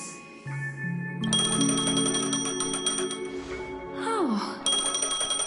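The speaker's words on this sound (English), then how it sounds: "A phone." In the video game Honkai Star Rail, a phone rings with bright layered electronic chimes and sustained tones, loud and close, with a short falling swoop partway through before the ringing resumes.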